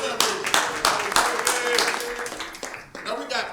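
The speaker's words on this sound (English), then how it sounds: "Everybody give a hand a round of applause for Peggy" Comedy show audience clapping, with uneven bursts of applause heard close under a voice that keeps talking throughout.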